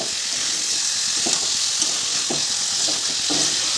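Chicken curry is stirred and fried in a pan, giving a loud continuous sizzle and hiss with a few soft scraping strokes of the spoon, and no voices.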